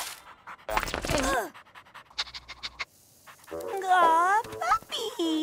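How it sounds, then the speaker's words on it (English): A cartoon dog pants in quick bursts and lets out brief whimpers, mixed among animated character voices speaking loudly over it. "Gwen, put that disgusting dog down."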